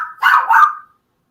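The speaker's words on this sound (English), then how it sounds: "When your dog started barking" A dog lets out a single short, close bark, a sharp double-peaked yelp, then silence.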